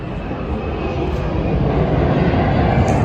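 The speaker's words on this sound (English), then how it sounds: "I can hear the planes, but I can't see them." Airplanes at Manchester Airport produce a steady, broad roar that swells gradually louder, heard from a distance while the aircraft are hidden by fog.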